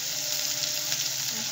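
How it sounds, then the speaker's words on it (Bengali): Onions frying in a pan give a steady, close hiss of sizzling that holds without a break through the short moment, with no voices. "অনেকটাই পেঁয়াজ আমার ভাজা ভাজা হয়ে গিয়েছে।"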